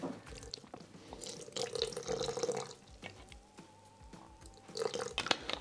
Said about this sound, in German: Dann gebe ich noch mal ein bisschen Wasser dazu.